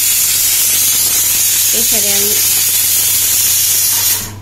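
Pressure cooker on a home kitchen stove hissing out steam while vegetables and meat cook, a loud, steady close hiss that runs almost the whole time before cutting off, with a short voice sound partway through.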